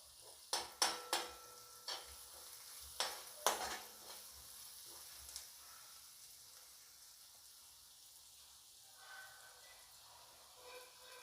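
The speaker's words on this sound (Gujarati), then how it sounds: "અને આને સરખી રીતે હલાવી દઈશું। ડુંગળીને ગોલ્ડન બ્રાઉન થવા દઈશું।" Onions fry in a pan in Gujarati leftover masala khichdi preparation, with a few sharp clanks of a spoon stirring at first, then a faint steady sizzle that continues quietly on its own.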